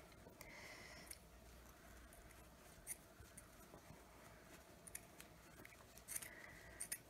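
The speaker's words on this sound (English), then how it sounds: "Nice sharp pair of scissors. With a sharp pair of scissors, yes." Quiet snipping of sharp scissors cutting through sock fabric, a few crisp irregular cuts close by with soft rustling between them.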